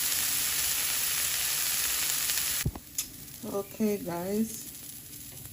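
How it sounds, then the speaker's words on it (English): Garlic Brussels sprouts frying in a little oil in a pan, a loud steady sizzle that cuts off abruptly after a clank, then someone speaks briefly. "you see I don't fry it with a lot of oil"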